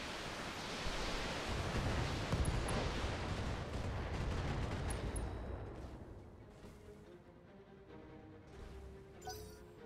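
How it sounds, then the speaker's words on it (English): A Trebuchet mech in BattleTech unleashes its weapons in a heavy, roaring salvo that booms and rumbles loudly, then fades into a lingering, quieter tail of impacts and clatter. "Fire the trebuchet,"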